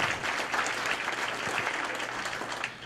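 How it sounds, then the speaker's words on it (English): A big round of applause from the audience at the Hawk's Nest 2018 live entrepreneur pitch event rolls on steadily and densely from start to finish, with no voices on top. "a big round of applause for sure"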